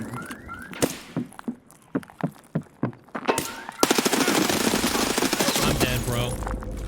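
Rapid gunfire in Escape from Tarkov: a run of about ten separate shots, then a dense, loud burst of automatic fire, all close and sharp.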